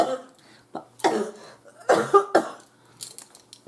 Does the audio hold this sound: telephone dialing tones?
no